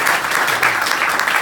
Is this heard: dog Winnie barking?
no